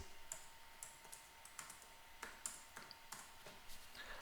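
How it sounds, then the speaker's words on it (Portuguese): Keys click on a computer keyboard as values are entered, a faint, irregular patter of light taps heard alone and close. "Vou digitar lá os valores."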